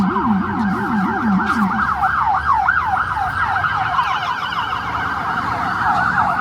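An unmarked police car's siren wails as it hurries along a road, a loud warbling yelp that rises and falls rapidly and continuously, close by and heard alone without talk.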